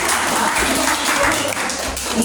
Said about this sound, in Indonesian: Tepuk tangan dulu untuk kelompok tadi.